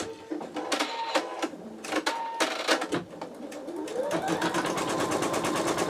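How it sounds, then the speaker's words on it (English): An embroidery machine fitted with a Sew Tech PA116M 260x200mm magnetic hoop stitches steadily, its rapid needle clatter growing into a continuous mechanical whir as it speeds up, close and alone. "I'm going to go ahead and hit start on the machine, and you will see it to start stitching."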